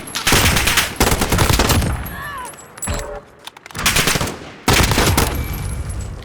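AN94 automatic rifle firing in Call of Duty Modern Warfare, loud close bursts of rapid automatic shots with brief pauses between them.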